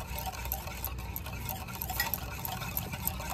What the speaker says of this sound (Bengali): এইভাবে 2 মিনিটের মতো একটু ফেটিয়ে নিলাম